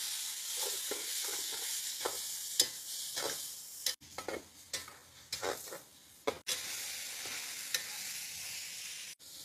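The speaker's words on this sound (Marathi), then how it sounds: "चिकन व्यवस्थित आपण 5 ते 7 मिनिटं असंच फ्राय करून घेऊ।" Chicken pieces fry in ginger-garlic paste with coriander and green chilli, a steady broadband sizzle broken by repeated scraping stirs of a spoon in the pan, close and alone.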